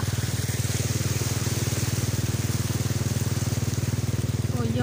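A motorboat moves through floodwater, its engine a loud, steady pulsing drone that continues unbroken throughout.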